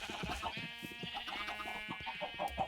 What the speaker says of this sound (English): Also, the sheep are really loud.